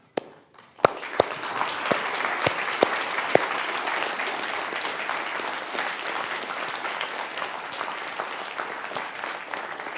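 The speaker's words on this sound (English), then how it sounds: "offer them a round of applause" A lecture audience breaks into applause after a few sharp opening claps, building into sustained dense clapping that continues steadily to the end.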